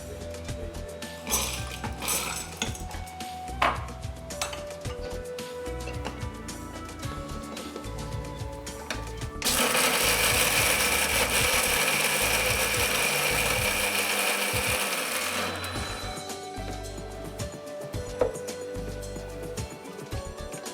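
A mixer grinder powders roasted ajwain and spices in a steady, loud whirring burst of about six seconds, preceded and followed by clattering and handling noises in a kitchen.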